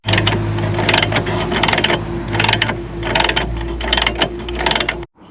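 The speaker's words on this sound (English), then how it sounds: "it's time to tighten up all the nuts" A ratchet spanner tightens the nuts while a TentBox cargo box is fitted, giving loud, close bursts of rapid clicking in a steady back-and-forth rhythm before stopping abruptly.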